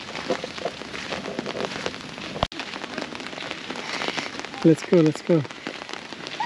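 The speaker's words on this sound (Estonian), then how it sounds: "Vihma kallab ja auto peal oli täitsa vihmavarjud olemas" Heavy rain pours down outdoors by a river promenade, a dense steady patter on surfaces throughout, with one sharp knock midway and a few brief spoken words near the end.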